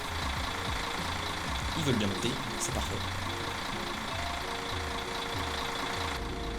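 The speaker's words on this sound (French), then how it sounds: "Le bruit du moteur il est insupportable" In the game Tourist Bus Simulator, a tourist bus diesel engine idles with a steady low throbbing rumble while someone speaks over it.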